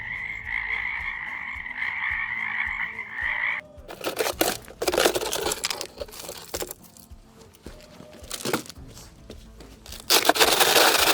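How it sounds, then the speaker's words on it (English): Loud crickets chirp in a dense, steady chorus outdoors on a gold-prospecting trip to Turkey Holler after a high banker is switched off; the shrill trill runs for a few seconds before close rustling and crinkling noises take over. "Never heard so many loud crickets in my life."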